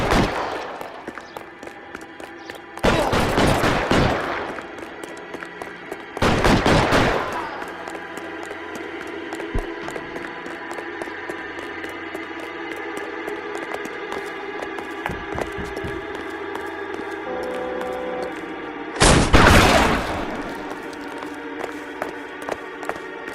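Gunfire in a video game police shootout, with several loud broadband bursts of shots around three, six and nineteen seconds over a steady background of game music and ambience.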